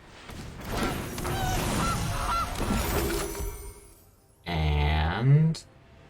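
A cartoonish goose honk from a Jund Food deck's goose card in a Magic: The Gathering Explorer match, a loud, nasal squawk lasting about a second near the end, after a stretch of busy game music and effects.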